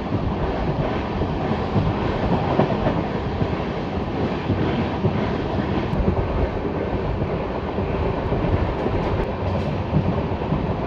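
The Lalkuan–Howrah passenger train rumbles steadily along the tracks near Mala in India, a continuous loud roar with faint rhythmic clatter throughout and no voices.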